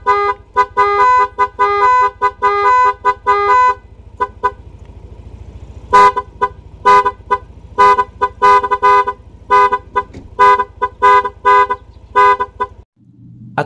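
A loud electronic motorcycle music horn plays melodic tunes, first a quick run of notes, then a series of short separated beeps, close and clear.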